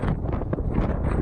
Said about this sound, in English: It's just so windy up here.